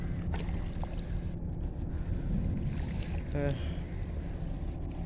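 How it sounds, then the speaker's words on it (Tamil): A boat passes on the water at Port Klang, a steady low rumbling drone with wind noise over the microphone, continuous and fairly loud throughout. "இங்கே போட் போயிட்டே இருக்குது."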